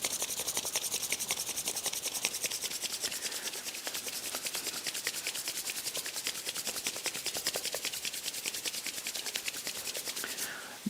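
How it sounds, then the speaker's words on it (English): Two palms rub together hard and fast, a rapid rhythmic rasping swish repeating steadily throughout, close and fairly quiet, with no voices over it. "just intensely rub these two hands together for a minute"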